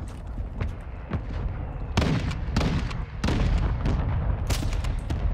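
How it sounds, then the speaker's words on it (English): Gunfire in Call of Duty Warzone (Modern Warfare II trios): repeated sharp shots and bursts crack over a steady battle rumble, growing denser and louder toward the end. "Somebody's shooting us"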